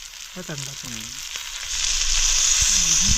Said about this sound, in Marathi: तर एका साईडने ना मासा फ्राय झाला आहे म्हणजे ऑलमोस्ट शिजला मासा